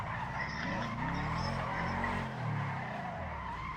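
A video-game car drifts on its own, tyres screeching and skidding in long wavering squeals over a rough, rising and falling engine drone, loud and continuous throughout.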